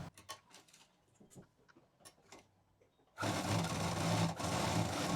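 A sewing machine stitches a sling bag. A few scattered clicks and handling taps come first, then the machine starts and runs in a loud, steady, rapid whir for the last two seconds.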